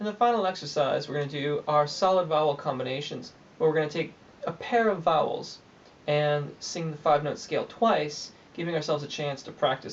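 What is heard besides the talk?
No distinct noise like a dog, phone or traffic.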